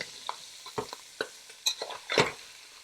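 Close scraping and clinking of a utensil stirring Jamaican corned pork cook-up in a pot, with soft sizzling and scattered bursts of frying between strokes.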